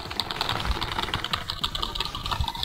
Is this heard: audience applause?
no